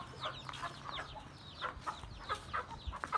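Aseel hen clucking in short, soft bursts, a quick irregular series of close clucks over faint background noise.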